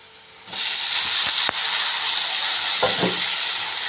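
Tomatoes drop into a hot pan for a tomato roast and burst into a loud, steady sizzle that starts half a second in and holds to the end, with a few faint stirring clicks.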